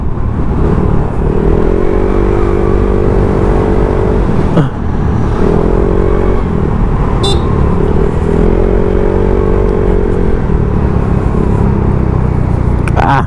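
A motorcycle climbs a mountain road toward the highest peak in Aklan, its engine droning loudly and steadily with rising and falling pitch through gear changes, under constant wind rush.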